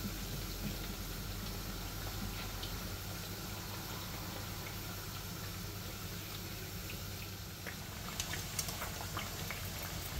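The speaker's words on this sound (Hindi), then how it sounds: "अभी साथ साथ फ्राई हो रही हैं" Sweet gogiya dough patties, a village treat, fry in hot oil. They give a steady, moderate bubbling sizzle throughout, with a few louder pops and crackles near the end and no voices.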